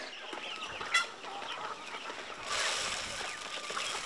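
Chickens clucking in a crowded poultry shed, a dense steady chorus of overlapping calls with a brief sharper squawk, the flock sounding loud and continuous throughout.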